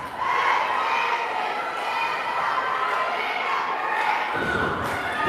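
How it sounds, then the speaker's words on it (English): A student section of high school fans chants and cheers in unison at a Chardon volleyball finals match in a gym, a loud sustained crowd roar of many young voices with a few thumps near the end. "They're doing a cheer in the Chardon student section."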